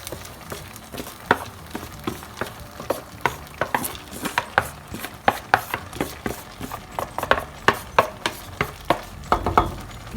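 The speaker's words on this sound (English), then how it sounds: "I'm going to mix it with a light hand properly from all the sides." Boiled rice folded into chana methi masala in a pan with a spatula, a steady run of soft scraping taps against the metal, close and moderately loud with no talking.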